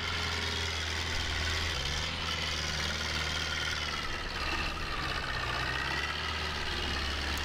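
Tractor engine in Farming Simulator 22 with an Indian tractor mod, a steady low diesel drone idling and running continuously, loud and even with constant vibration and no pauses.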